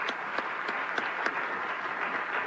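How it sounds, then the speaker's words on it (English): Brief applause from a crowd at a primary political forum, a soft, steady patter of clapping with a few sharper claps standing out, somewhat distant and fairly quiet. "So I think they deserve one more round of applause."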